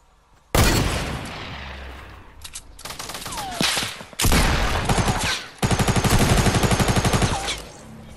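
Loud Fortnite video game gunfire: a sharp opening blast, then repeated bursts of rapid automatic shots with brief pauses between volleys, all close and dominant with no talk over it.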